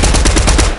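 Loud, close rapid gunfire from a shooter video game, with quick evenly spaced shots rattling through a short burst.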